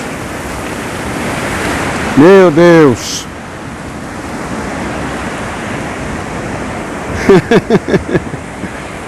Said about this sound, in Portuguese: Olha a água aí vindo, irmãos.